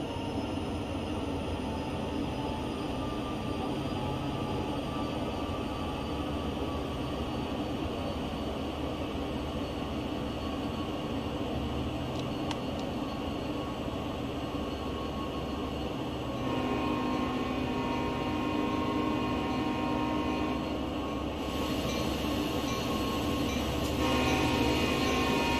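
A Union Pacific train runs on track over Sherman Hill in Train Sim World, a steady rolling rumble and hum of wheels and engine heard from the cab that grows slightly louder later on, with no talk.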